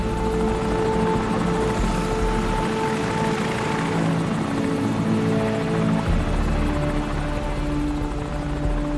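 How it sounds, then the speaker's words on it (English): A helicopter's steady rotor thrum and engine drone in the game Call of Duty 4: Modern Warfare fill the scene, loud and continuous throughout, with no voices. "Enemy helicopter! Get down!"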